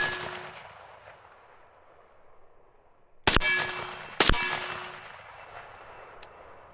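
Two sharp pistol gunshots ring out at a 25-yard range about a second apart, each followed by a metallic clanging decay, with a faint tick afterward.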